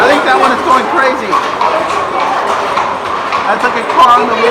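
Rhythmic hoof clip-clops from a carriage horse on hard pavement in Petra, Jordan, moderately close, beneath a steady crowd murmur and occasional talking.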